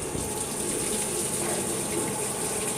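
A new washing machine fills with water in test mode, a steady close gush of water running into the drum without pause and with no talking.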